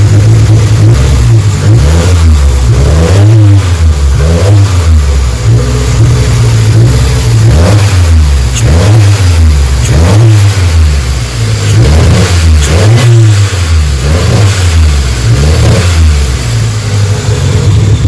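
A tuned car engine running on a Haltech Elite 1500 ECU revs repeatedly in loud, close, rhythmic bursts as the turbo builds boost and the wastegate opens, the pulses rising and falling steadily without pause.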